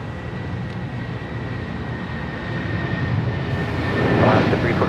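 An Alaska Airlines Boeing 737-800 jet departs Los Angeles International Airport, its engines a steady broadband roar that slowly grows louder toward the end, heard alone at a distance.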